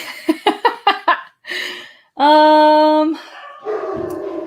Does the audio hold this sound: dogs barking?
yes